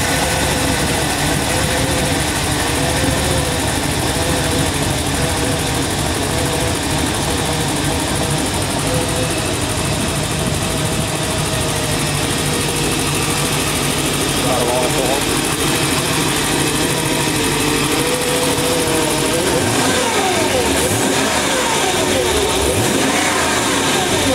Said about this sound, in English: Good running engine.